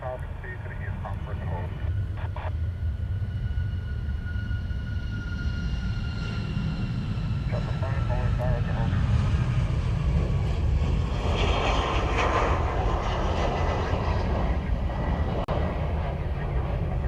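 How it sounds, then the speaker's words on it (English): A Virgin America airliner takes off from Honolulu, and its jet engines make a loud, steady, continuous roar that builds slightly at its peak and holds through the whole stretch, with a person talking over it. "So that was Virgin America flight 271 off to Ontario."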